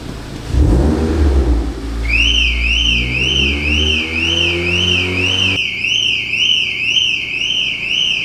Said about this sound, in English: I just revved the car and it set off Graham's alarm